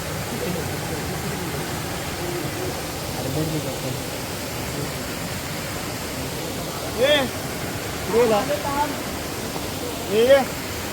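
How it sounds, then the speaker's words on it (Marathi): Rain-swollen stream at a village bathing spot, rushing steadily as a loud, continuous broadband roar, with a few brief voices rising over it near the end. "पावसात खूप पाणी असतं पाणी इकडं वरती चढतं"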